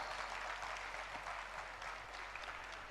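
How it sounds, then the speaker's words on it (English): An audience applauds nursing students at a hospital jubilee celebration evening program; steady, dense clapping from a crowd, fairly distant and even, with no talk. "Please give them a round of applause."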